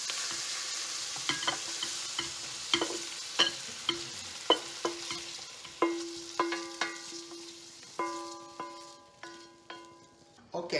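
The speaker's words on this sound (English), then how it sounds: "now the zucchini saute, it looks really good" Zucchini sautés in a pan under a soft sizzle, while a utensil stirs and strikes the pan in a steady series of sharp, ringing metallic clinks.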